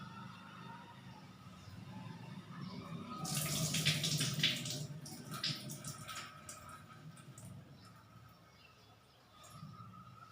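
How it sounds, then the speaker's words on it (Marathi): Soaking water from mung dal is poured off in a kitchen, a soft splashing pour swelling for a few seconds in the middle before trailing into faint drips and quiet. "आता यातलं पाणी ओतून देते।"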